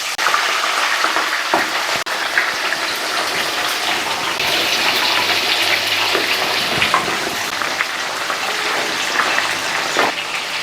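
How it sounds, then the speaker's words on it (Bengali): Fish heads fry in hot mustard-style oil, a loud, continuous bubbling sizzle that stays steady throughout, close by, with a couple of faint clicks and no talking. "গরম তেল হয়ে গেছে, এক একটা মাছের মাথা তেলে দিয়ে দেবো।"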